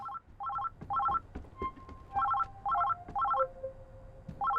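A telephone rings in the Oxenfree II video game, with repeated short bursts of electronic trilling at a steady rhythm over a low ambient background, along with a few faint tones and clicks.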